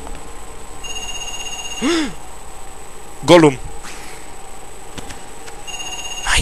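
A telephone rings in the Parasite Eve II video game, with a steady electronic ring tone repeating at intervals. Someone talks over it and a brief vocal imitation of a creature cuts in.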